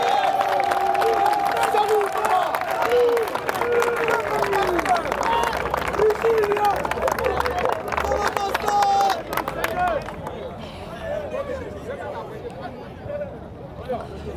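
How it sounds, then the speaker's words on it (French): At a religious gathering, a large crowd cheers and shouts its acclaim for Jesus Christ. The roar of voices and clapping is loud and continuous, then eases slightly near the end. "On acclame le Seigneur Jésus-Christ."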